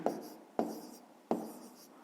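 A pen writes on paper in three quick bursts of scratchy strokes, close and fairly quiet, with short pauses between them during a fifth-grade maths exercise.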